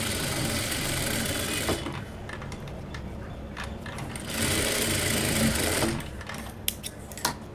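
A sewing machine stitching a single-fold sleeve hem runs in two bursts of fast mechanical whirring, followed by a few faint clicks.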